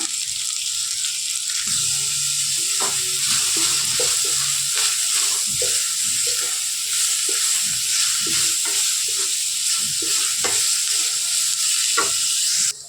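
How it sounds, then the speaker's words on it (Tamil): Chopped large onions sauté in a pan for a cauliflower gravy, a steady loud sizzle and frying hiss running throughout with scraping stirs and clicks of a spoon against the pan. "நல்லா சேர்த்துட்டு வதக்கிடலாம்"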